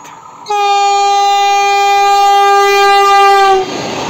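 A Vande Bharat train's horn sounds in one long, loud, steady blast of about three seconds as the train passes through fog, with rumbling track noise underneath and after.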